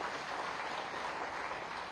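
Crowd applause at a bus stand terminal inauguration in Sindhi Camp, a steady wash of clapping, moderately loud and continuous throughout with no gaps.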